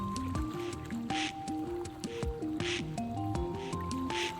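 Gentle water sounds while fishing in the video game Disco Elysium: soft drips, squishy splashes and lapping liquid repeating in a loose rhythm over layered ambient music tones.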